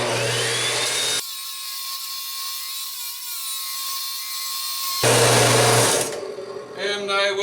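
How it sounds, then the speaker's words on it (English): A power saw cuts through metal for a workbench build, starting with a brief motor whir, then a long, steady high-pitched grinding whine, and ending with the motor winding down, all loud and close. "I'm going to cut this metal in half with my saw."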